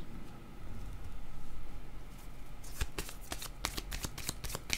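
Tarot cards are shuffled by hand, a soft low rustle giving way to a quick run of crisp riffling flicks near the end.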